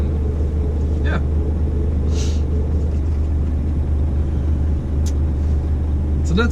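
A dump truck pulling a trailer drives through Gothenburg, Sweden, its engine a steady low rumble from inside the cab, with a few faint clicks and squeaks over the drone.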